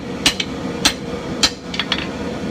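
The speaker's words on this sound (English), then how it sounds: "I've switched to the flat of the anvil because there's not as much work to do back here towards the hilt." Hammer blows ring out on the flat of an anvil as a sword blade is forged toward the hilt: several sharp metallic strikes, some doubled, at an uneven rhythm over a steady background hum.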